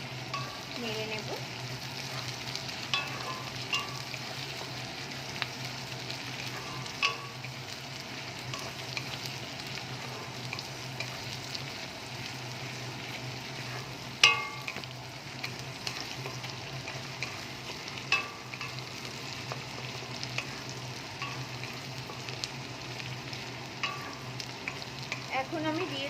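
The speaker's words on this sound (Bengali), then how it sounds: "আমি 1/2 চামচ আদা রসুনের পেস্ট দিয়ে দেব। এটাকে একটু ভালো করে নেড়ে নেব।" Onions frying with ginger-garlic paste in a pan, a quiet continuous crackle with occasional sharp utensil clinks as the mixture is stirred, a low hum running underneath.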